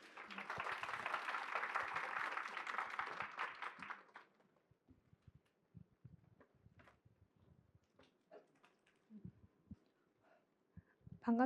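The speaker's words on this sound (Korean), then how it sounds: "네, 큰 박수 부탁드릴게요" An audience at a Korean tech conference session gives a round of applause, dense clapping for the first four seconds that fades into quiet room noise with scattered small knocks.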